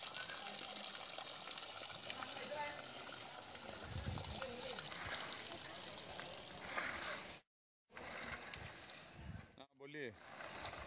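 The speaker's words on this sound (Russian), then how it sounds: "Вот такой вот мы видим здесь водопад." Waterfall in an Indian village beside piles of rubbish, giving a steady broadband rush of running water that continues throughout, with a brief cutout near the end and faint background activity.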